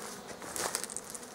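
Honeybees buzzing around a hive with four frames of brood in early spring, a faint, diffuse insect hum with brief brighter buzzes as individual bees pass close.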